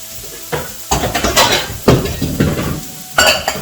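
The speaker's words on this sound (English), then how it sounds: "I'm gonna heat up my little mixture here and then add some honey" A honey mixture heats in a pan while burgers and buns are cooked for a Bob's Burgers recipe, giving bursts of sizzling and clattering utensil-on-pan stirring, loud and close, with no talk.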